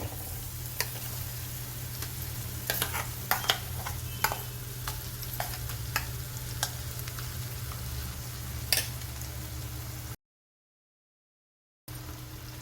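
Chickpea paste mixture stirred into a frying pan with potatoes for chaat: a steady sizzle runs throughout, punctuated by sharp spatula clicks and taps, then breaks off into a short silent gap before resuming.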